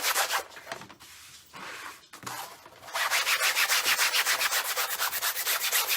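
Sandpaper rubbing the surface of a canvas, first irregular scratchy strokes, then a fast steady back-and-forth rasping rhythm, close and alone.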